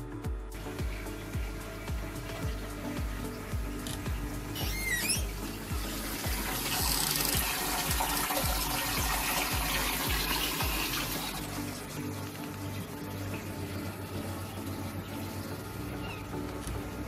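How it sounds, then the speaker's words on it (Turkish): Water running steadily into a cichlid aquarium, a continuous close splashing trickle throughout, with a brief high squeak partway through. "Su dolmaya devam ediyor."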